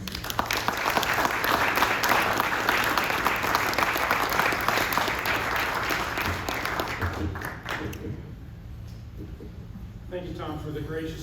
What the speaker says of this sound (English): please join me in giving Captain Bartlett a warm round of applause